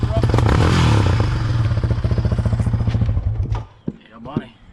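A Yamaha Raptor quad's engine revs hard and rattles close by as it is driven up into the back of a pickup truck, ending with clattering thumps and scrapes before the noise drops away.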